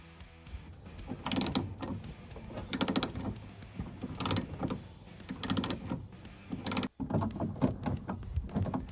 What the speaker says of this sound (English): There are two bolts holding the locking mechanism to the trunk. They're 10mm bolts, so you'll need to remove them.